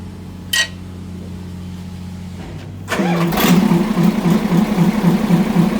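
A Mitsubishi Fuso 8DC9 diesel engine on a transit mixer truck, with cut exhaust and no air filter, cranks and catches, then settles into a loud, rough, chugging idle with a raw, unmuffled exhaust note.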